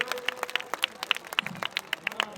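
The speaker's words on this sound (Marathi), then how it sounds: "सगळ्यांनी टाळ्या वाजवा" A crowd at a Dhamma conference in Hinganghat claps along, with sharp, closely spaced hand claps in a loose rhythm and a faint background hum.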